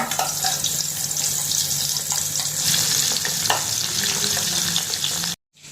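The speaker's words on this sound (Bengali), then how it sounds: "তেলে ঝাঁপ দিয়েছে আওয়াজই বুঝতে পারছেন" Fish frying in hot oil for a curry, a loud, steady sizzle with dense crackling that runs without a break and cuts off abruptly just before the end.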